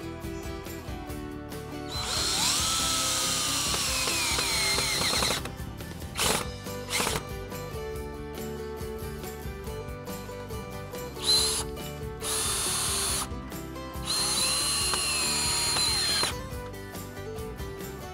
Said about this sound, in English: all I'm going to do is clamp it down and screw it together.